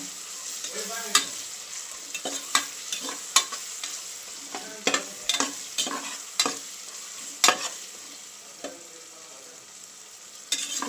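Tomato bath mixture frying in a pan, with a continuous sizzle and repeated sharp scrapes and taps of a spoon stirring it, close up, no talking.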